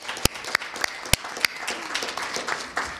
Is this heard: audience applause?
yes